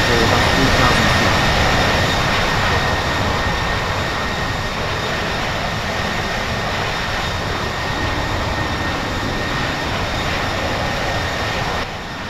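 A United Airlines jet airliner roars steadily as it takes off from a runway, a loud broadband engine rush lasting throughout and easing slightly near the end.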